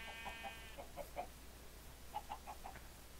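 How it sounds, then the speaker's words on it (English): A chicken in the Minecraft video game clucks in two short bursts of soft, quick clucks, fairly faint over a steady low background hum. "Hello, chicken."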